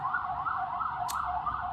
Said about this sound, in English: excuse the New York City background noise